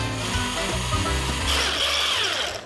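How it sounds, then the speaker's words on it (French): Very cold whipping cream is beaten with icing sugar by an electric mixer, giving a steady, loud, close whirring drone that continues without a break and picks up a higher, brighter whine partway through. "Je vais ajouter le sucre glace et il n'y a plus qu'à mélanger."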